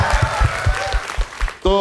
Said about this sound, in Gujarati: તાળીઓ થઈ જાય એમના માટે